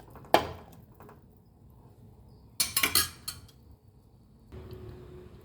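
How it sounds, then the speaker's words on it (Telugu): Eggplant curry being stirred in a pan after salt goes in, with two bursts of metal utensil scraping and clinking against the pan and a soft sizzle between them, close by with no talking. "సరిపడినంత ఉప్పు వేసి మళ్ళీ కొంచెం కలిపేసి"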